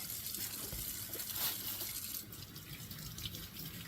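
Tap water runs steadily into a kitchen sink while vegetables are rinsed, a continuous splashing hiss with slight shifts as the items move under the stream, close and alone.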